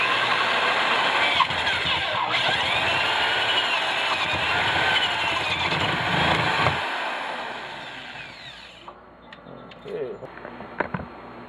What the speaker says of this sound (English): For my hole, I use a 1 1/4 inch spade bit.